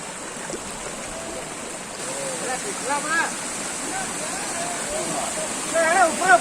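The Asurkhol second waterfall in Keonjhar gives a continuous rushing roar of falling water, with people talking and calling out over it nearby.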